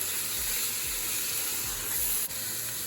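Grated carrot halwa roasts in a pot with a soft, steady sizzle and hiss, faint low scraping pulses recurring underneath, no voices.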